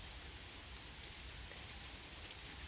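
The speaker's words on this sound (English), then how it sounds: "it's still raining" Steady rain falling in the early morning after a thunderous night, a soft continuous hiss of drops on surfaces with no voices.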